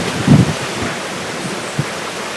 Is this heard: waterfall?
yes